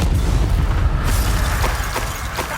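A Confringo spell explosion in the Hogwarts Legacy video game lands as a loud, deep boom with rumbling low end, followed by a few sharper bursts and crackles as it fades.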